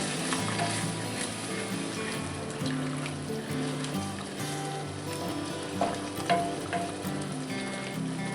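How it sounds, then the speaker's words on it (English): A venison hamburger skillet meal sizzles steadily in a cast iron pan as it is stirred, a dense continuous frying hiss with occasional soft scrapes, close and even throughout. "Stir this in a little bit."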